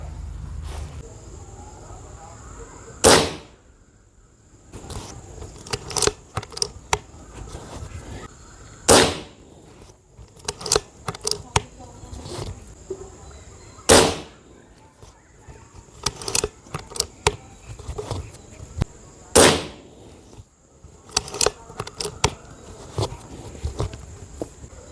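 Vertigo Carbine PCP airgun firing at a bullseye target: several sharp, isolated cracks spaced a few seconds apart, each followed by quieter clicks and handling noises, with no talking.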